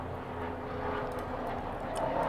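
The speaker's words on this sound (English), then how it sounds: "a helicopter going by" Helicopter passing outside in New York City, a steady low rotor and engine drone heard at a distance through a room, holding fairly even over a couple of seconds with no talk.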